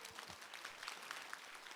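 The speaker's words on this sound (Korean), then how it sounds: "큰 박수 부탁드립니다" Scattered clapping from a lecture audience in Cheongju, fairly faint and steady, as if heard from some distance, with no one speaking over it.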